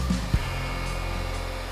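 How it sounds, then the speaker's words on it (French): A hair dryer blows over hair during styling, a steady loud whir with constant airflow running throughout, after a couple of brief soft bumps at the start. "on met évidemment le sèche-cheveux dans le sens des écailles pour vraiment rentrer les petits"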